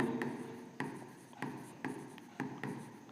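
Pen or pencil writing a Class 10 trigonometry height-and-distance solution on paper, with faint scratchy strokes and a few sharper taps roughly every half second, close and quiet, with no talking.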